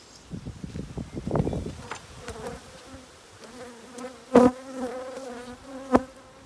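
Honeybees buzz around a hive during a queen cell inspection, a close droning hum with several brief louder passes as individual bees fly near, and no talk.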